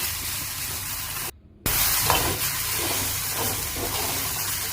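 Drumstick leaves sautéing in a pan with rock salt, a steady close hiss and sizzle that drops out briefly before resuming just as strongly, no voices over it.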